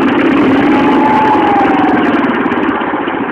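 A loaded log truck's diesel engine rumbles steadily at close range, a loud, dense idle with a slight rising whine midway and no voices over it.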